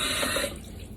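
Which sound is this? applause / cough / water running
water running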